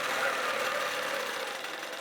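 A longarm quilting machine runs steadily, a continuous mid-pitched mechanical whir with a fine rapid stitching pulse and no pauses or voices.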